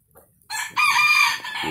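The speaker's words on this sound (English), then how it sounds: "Look at the rooster." A rooster crows once, loud and close, a bright drawn-out call rising after a short quiet start and holding to the end.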